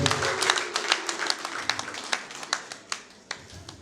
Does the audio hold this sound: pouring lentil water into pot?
no